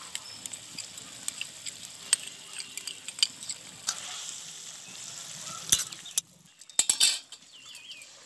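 Khesari greens fry and sizzle in a pan as poppy seeds are tipped in, with a steady hiss, scattered utensil clicks and stirring scrapes, then a brief quieter gap followed by a few louder clatters near the end.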